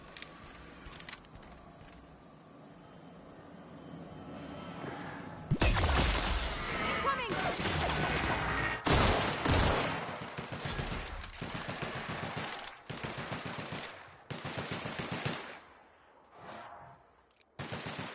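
Bursts of gunfire and rapid automatic fire in The Outer Worlds, loud and dense through the middle, with a voice talking over the shooting.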